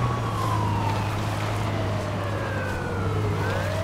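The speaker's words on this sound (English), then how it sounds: "Yeah, turn off your sirens real quick." Police car sirens in the video game H1Z1 wail continuously with sweeping rising and falling tones over a steady low engine hum, loud and close.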